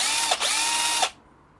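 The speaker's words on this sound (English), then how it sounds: "put that in a drill" A power drill spinning a polishing attachment whirs at a steady high pitch, briefly dipping in speed twice before stopping abruptly, leaving near silence.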